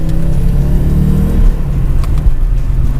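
An Audi Quattro on summer tyres with all-wheel drive accelerates hard, its engine a loud, steady close-up roar with a gear-change dip midway before pulling again.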